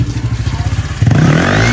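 A motorcycle engine revs hard at high RPM close by, a rapid pulsing throb that climbs into a louder, strained roar partway through, with some mechanical clatter.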